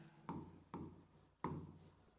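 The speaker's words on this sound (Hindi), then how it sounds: "तो यहाँ पे मैं लिख देता हूँ मल्टीप्लिकेशन" Three quick, distinct marker or chalk strokes scrape across a board during a maths lecture, each a short scratchy burst that fades out, quiet and close.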